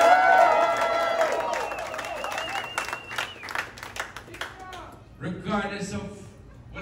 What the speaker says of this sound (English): Let's make some noise for our Jamaican artists.